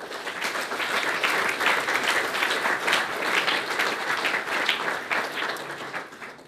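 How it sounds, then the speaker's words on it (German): Sustained, even applause from an audience at the opening ceremony of a university technical building in Fürth, steady and full for the whole stretch with no talk over it. "die haben alle einen Applaus verdient"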